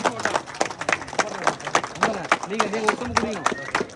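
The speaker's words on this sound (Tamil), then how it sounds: "கைத்தட்டி உற்சாகப்படுத்துமாறு கேட்டுக்கொள்கிறோம்." A village crowd claps at the opening of a water purification plant, with irregular hand claps scattered beneath people talking throughout.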